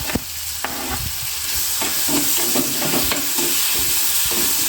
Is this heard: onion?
yes